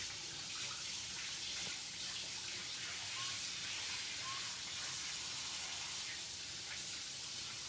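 Steady hiss of water running from a kitchen tap while hands are washed, continuous and fairly soft with no pauses and no talking.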